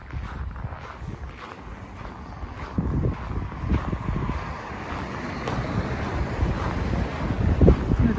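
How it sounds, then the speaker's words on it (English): Winter wind rising outdoors on a city street, a steady broad rushing roar that gradually grows louder and buffets the microphone, with no voices. "Oh, the wind is picking up."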